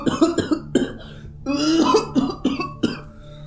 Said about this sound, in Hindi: और सब खांसने लगे।